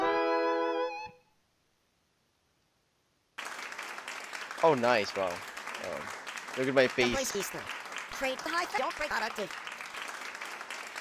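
Applause from the crowd in the rhythm game StarStruck: Prologue bursts in after a brief silence and keeps going as a steady, moderately loud clatter, while a person talks and exclaims over it.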